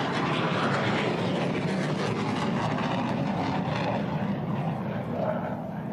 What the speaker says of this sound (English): Mirage 2000. The third one also ready for takeoff.